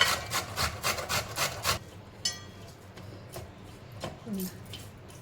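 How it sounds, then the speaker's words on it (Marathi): Sweet potato grated by hand for fasting thalipeeth, giving several quick rhythmic rasping strokes up close in the first couple of seconds, then quieter handling noises. "त्याच्यात आपण रताळा किसून घेणार आहोत."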